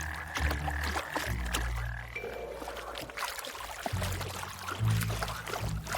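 A cane toad croaks with a low, steady call close by. The croaking is tonal and comes in stretches over a watery, gurgling background.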